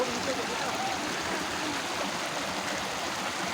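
A city river in Qatar flowing steadily, a constant soft rushing wash of water heard from a moderate distance with no other sounds standing out.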